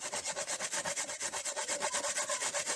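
A sharp hand grater works food outdoors with quick, steady back-and-forth rasping strokes, close and even, with no voices.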